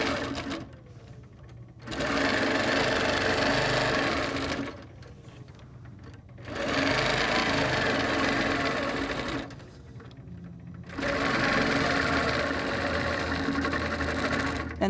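A sewing machine quilts stitch lines across a quilt, sounding as a loud, steady mechanical whirr close by. It runs in three sustained stretches of a few seconds each, separated by brief quieter pauses.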